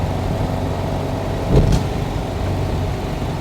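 A 1971 VW Type 3 Squareback accelerating in third gear, a steady mid-pitched engine drone heard close from inside, with a brief louder thump about halfway through.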